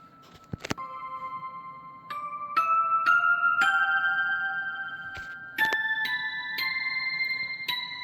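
Bell synth voice on a Roland Go Keys 5 keyboard plays a sequence of bright, chiming notes that enter one after another and ring on, stacking into sustained tones with sharp percussive attacks.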